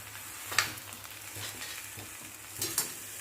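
Ground coriander powder being mixed with a spoon into spices frying in a pan for bread pakora, with soft sizzling and a few faint scrapes and clinks of the spoon against the pan, close and fairly quiet.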